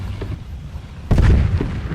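A tank cannon in the online game Tanki Online fires with a sudden heavy boom partway through, breaking over a low rumbling game background and then trailing off into a dull roar.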